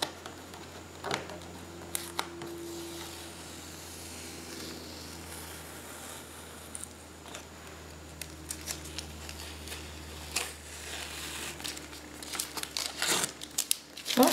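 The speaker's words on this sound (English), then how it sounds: "let's take the tape off" Tape being peeled off a dried art piece loosened with a heat gun, giving soft intermittent crinkles, tearing rasps and small clicks that grow busier toward the end, close and fairly quiet.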